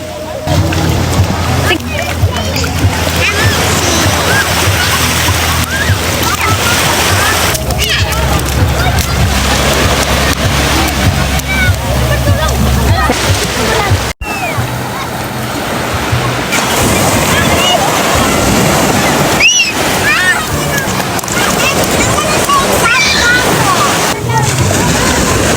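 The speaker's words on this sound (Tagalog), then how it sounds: "Syempre yung mga bata takbo agad sa dagat at syempre ligo agad ang gusto nila" Children bathing and splashing in calm sea waves at a provincial beach, with continuous surf wash and sloshing water close by, and occasional voices mixed in.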